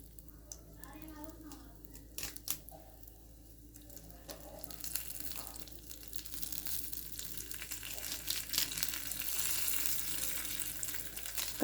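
Fresh curry leaves go into a hot pan for tambuli, setting off a faint crackling sizzle that slowly grows louder and steadier, with soft rustling and a few clicks early on.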